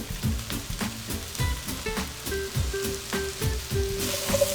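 Cubes of butternut squash sizzle steadily in melted butter in a pan, a soft continuous frying crackle broken by a few louder spoon stirs.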